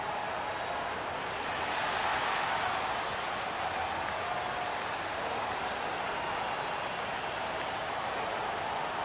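A steady wash of noise from a Houston basketball arena crowd of Rockets fans before tip-off of a Western Conference first-round playoff game against the Jazz, an even, sustained roar with scattered applause.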